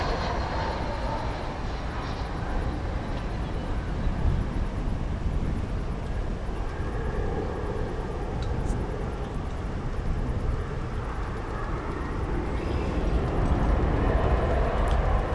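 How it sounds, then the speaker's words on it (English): A Qantas A380 airliner at DFW Airport produces a loud, steady, broadband engine roar that holds for the whole stretch without pause. "there is the Qantas A380"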